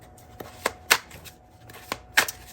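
Tarot and oracle cards from an expanded deck with extra court cards are shuffled in short bursts, about five or six crisp riffling flurries spaced irregularly, close and fairly quiet, with no voices.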